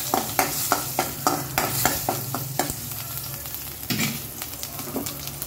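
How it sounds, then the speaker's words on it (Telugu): Green chili and vegetable pieces fry in a pan, a close sizzle broken by a quick series of rhythmic spatula taps and scrapes while stirring. "ఇప్పుడు పచ్చిమిర్చి పెట్టుకొని ముక్కలు సిమ్లో పెట్టుకొని ఫ్రై చేసుకున్నామండి"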